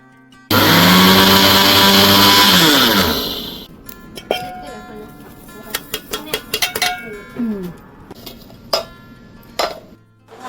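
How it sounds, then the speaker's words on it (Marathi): A mixer grinder roars loudly for about three seconds as it grinds semolina fine for a sugar-free date cake, then cuts out, leaving scattered clinks and knocks of utensils. "मी मिक्सरमध्ये वाटून घेतला आणि थोडासा बारीक केला रवा"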